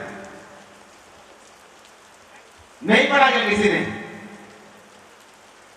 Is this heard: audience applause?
no